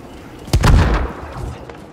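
Cannon fire in a video game: one sharp, booming blast about midway through, with a heavy low rumble that fades slowly under faint background noise.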